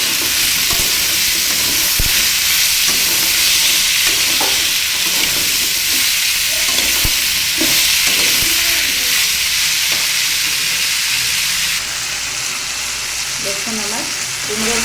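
Vegetable fry with salt and turmeric is stirred in a pan of hot oil. A loud, continuous sizzle of frying fills the clip, with occasional scraping knocks of the spoon and no talking.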